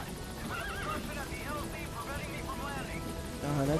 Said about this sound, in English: That's just the horse.